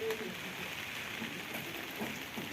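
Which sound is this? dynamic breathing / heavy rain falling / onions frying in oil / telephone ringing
heavy rain falling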